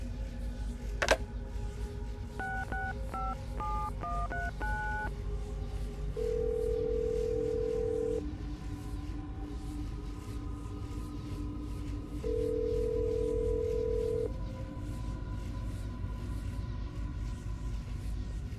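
A phone call in Assassin's Creed Brotherhood: a click, then a quick run of touch-tone dialing beeps, followed by two long steady ringback tones separated by a pause, all over a low background hum.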